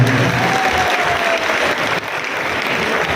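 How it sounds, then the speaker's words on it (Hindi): Audience clapping at a mushaira poetry gathering in Meerut, a dense, steady wash of applause from a large crowd sustained throughout without pause. "मुशायरा कमेटी के लिए सब लोग ताली दें।"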